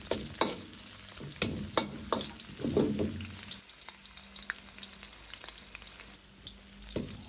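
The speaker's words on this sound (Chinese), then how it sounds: "再把捞出的香料也一起放入，熬干多余的水分，熬出香味。" Onion, scallion, ginger and whole spices fry in oil over medium-low heat while soybean paste is made: a steady crackling sizzle broken by sharp scraping and clanking stirs, busier early, then settling into a softer hiss with no talking.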